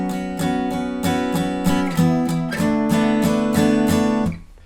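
Power chords on an acoustic guitar for a song, strummed close in an accented, repeating pattern of crisp down-strokes with a few heavier hits, ending in a quick muted stop. No talking.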